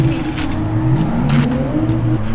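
A V8 drift car's engine revs loudly at a drift competition in Toruń, a steady rising engine drone with a few sharp bursts and faint voices in the background.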